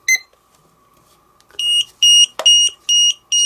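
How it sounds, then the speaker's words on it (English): A Hubsan H122D X4 Storm quadcopter's lost-model alarm: a faint high beep at the start, then a brief pause before a string of loud, piercing electronic beeps repeating in quick regular pulses. "If you turn off this transmitter, you'll see that this automatically starts to beep."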